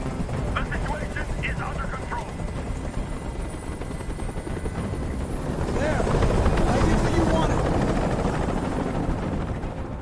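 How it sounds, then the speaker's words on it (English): Helicopter hovering overhead in the Detroit: Become Human game, a steady loud rotor drone that swells midway, with voices talking over it. "Tell that helicopter to get out of here."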